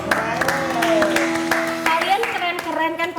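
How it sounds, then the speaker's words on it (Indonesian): An audience at an Indonesian youth talk event claps in a short burst of scattered handclaps under a speaking voice and background music. "Tepuk tangan dong."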